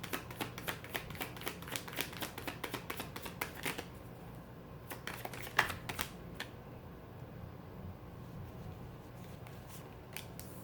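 Tarot cards are shuffled in a run of quick, soft flicks, followed by sparser single taps and slides as cards are drawn. The sound is close but quiet, fading to near silence toward the end.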